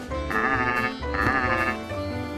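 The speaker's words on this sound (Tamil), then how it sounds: "sheep செம்மறியாடு," A sheep bleats twice, close and loud, each bleat a long, wavering cry with a short pause between.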